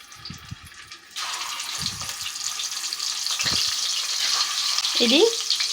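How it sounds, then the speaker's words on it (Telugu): Eggs fry in a pan with turmeric for a Telugu taro-root and egg curry, a steady sizzle rising and holding after a quiet opening, with a few scrape and stir knocks near the end. "ఇవి కొద్దిగా కలర్ వచ్చేంత వరకు ఫ్రై చేసుకుందామండి"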